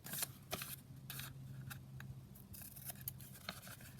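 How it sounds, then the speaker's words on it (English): Scissors snip along the edges of book pages in a series of quick, quiet cuts with irregular spacing, close up and without talk. "And then we're just going to trim these sides down"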